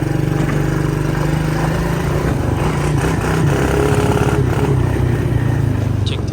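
A Chinese ATV engine runs continuously with a buzzy, steady idle that rises slightly partway through, loud and close with no talking.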